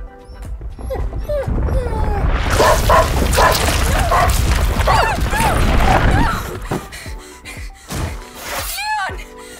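Dog whimpering and yipping in the video game A Plague Tale: Innocence, short pained yelps and whines amid a loud crashing, noisy game scene with voices around it.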